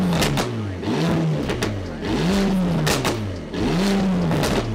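A limited-edition Mercedes-AMG engine revs hard three times in succession, each throttle blip rising and falling in a loud, close, throaty roar.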